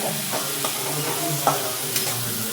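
Bitter gourd frying in a pan for a home-style Marathi karela bhaji, a steady close sizzle broken by several scraping stirs of a spatula, with no talking.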